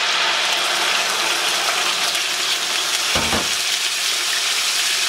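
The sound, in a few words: onions and spices frying on high flame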